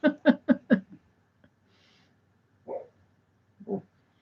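A sleeping dog gives four quick muffled barks in a row, then a pause and two softer single woofs or whimpers, close by in a quiet room.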